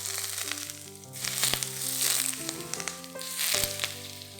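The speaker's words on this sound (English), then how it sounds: "You should hear it sizzling." Smoking-hot oil poured over ginger and spring onions for steamed chicken gives a close, loud sizzle that swells and fades in waves, over a steady tonal background.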